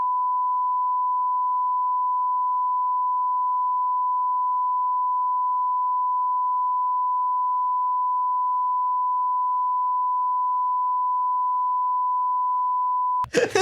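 A steady, loud pure-tone censor beep runs unbroken for about thirteen seconds over speech, ending abruptly with a brief snatch of voice at the close.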